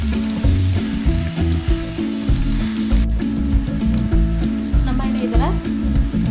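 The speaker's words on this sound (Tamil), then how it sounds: "காய்கறிலாம் ரொம்ப வதங்கணும்னு வேண்டாம், எல்லாமே செமி குக் போதும்." Bell pepper and mixed vegetables sizzle and crackle in a hot pan for vegetable egg fried rice, a loud steady fry with stirring scrapes throughout.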